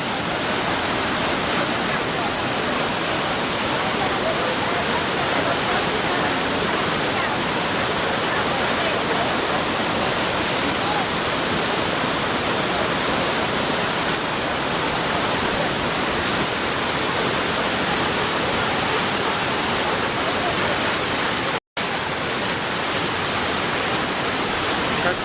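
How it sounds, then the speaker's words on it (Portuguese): Cachoeira dos Pretos in Joanópolis, a waterfall with a 150 m drop, roars as a dense, constant broadband rush that stays loud and unbroken throughout, apart from one brief cut. "Se liga nessa queda d'água, pai. 150 metros de queda."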